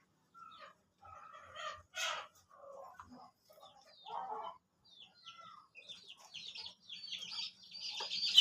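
Backyard pet chickens, a dumpo breed and a hen, cluck and call softly in short scattered bursts, with no one speaking.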